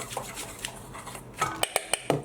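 Seasoned flour, mixed with salt and black pepper, is stirred in a bowl: soft, quiet scraping at first, then a run of four or five sharp utensil clinks against the bowl near the end.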